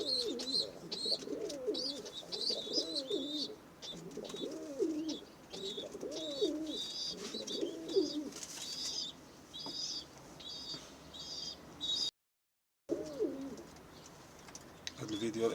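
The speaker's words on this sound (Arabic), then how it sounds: "بغينا نخليو الحمام يهضر على راسو" Pigeons coo in repeated close, rolling phrases with occasional wing flaps and soft chirps, over a light background hiss.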